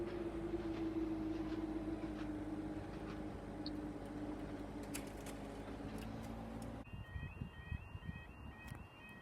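A Class 197 train passes the Conwy level crossing on the Conwy Valley Line toward Llandudno Junction. It makes a steady droning rumble with faint rail clatter, then the sound abruptly thins as a crossing alarm tone begins.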